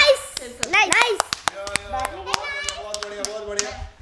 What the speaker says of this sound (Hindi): ऑडियंस को तालियां बजाते हुए दिखाओ, तालियां बजाओ